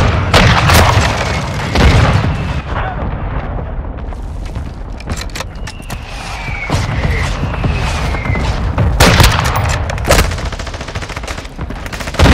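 Mortar strike explosions in a military first-person shooter match, heavy booms mixed with rapid machine-gun fire and scattered gunshots, loud and continuous, with a faint whine in the middle.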